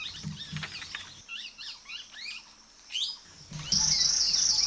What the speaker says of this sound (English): Then, one fine day, the young ones hatch and the real work begins for the Paradise Flycatcher pair.